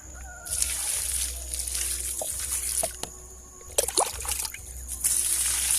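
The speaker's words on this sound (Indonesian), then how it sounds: "Saya akan siram sekitar 2 timba saja ini" Liquid organic fertilizer poured from a bucket onto red soil, a steady close splashing and trickling water sound with brief surges, no talking.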